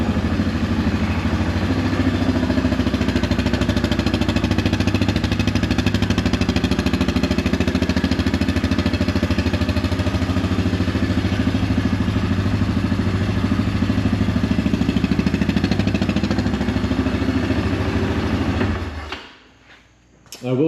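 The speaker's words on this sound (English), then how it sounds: "You hear the EFI run." A 2025 Kodiak 700 EPS quad's fuel-injected engine idles close by, a loud, steady rumbling drone with a faint mechanical clatter that holds even throughout, then cuts off abruptly near the end.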